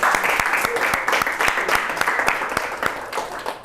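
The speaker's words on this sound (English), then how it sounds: "Give them a round of applause." Applause from an audience at a training session, a steady wash of clapping with some sharper individual claps, fairly close and moderately loud, fading slightly toward the end.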